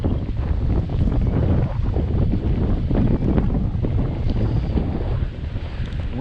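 Heavy, continuous wind buffeting roars against the microphone while riding a Hiboy S2R Plus electric scooter, loud and rumbling throughout with no speech.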